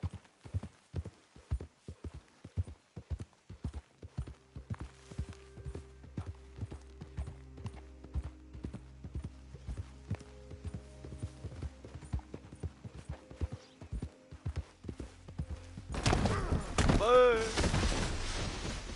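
Horse hooves clip-clopping in the Red Dead Redemption 2 video game, a steady run of close, crisp hoofbeats over ground, followed by a louder burst of scuffling and a horse's whinny near the end.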